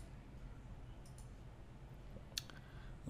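A single computer mouse click sounds faintly and briefly over a low steady background hum while an Excel menu option is confirmed.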